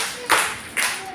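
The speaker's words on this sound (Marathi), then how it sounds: "जोरात टाळ्या." Children give two short bursts of loud clapping about half a second apart, close and lively, with brief quiet in between.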